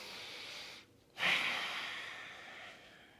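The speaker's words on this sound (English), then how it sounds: "Let's pull some deeper breaths into the lungs, big filling inhales, big sighing exhales." One deep breath during a morning yoga session: a soft inhale, a short pause, then a long, breathy sighing exhale that fades out, close and quiet.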